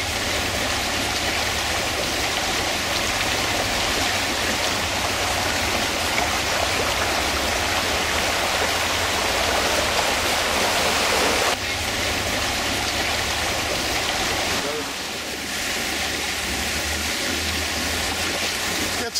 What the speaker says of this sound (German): und das Wasser läuft und läuft